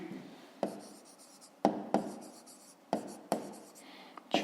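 Pen or chalk strokes writing out a number during a fifth-grade math exercise: about six sharp, scratchy bursts in an uneven rhythm, close and fairly quiet, with no talk.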